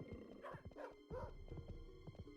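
A dog barking in the Chicken Run PS1 video game, several quick yips and barks in a row over game music, faint and not close.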